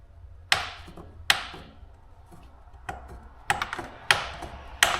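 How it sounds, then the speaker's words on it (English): Snips cut through a luxury vinyl plank in a series of sharp, crisp snaps, about six distinct clicks spaced irregularly over a few seconds, close by against a quiet background. "if you feel like you cut it too big, I think snips would actually work"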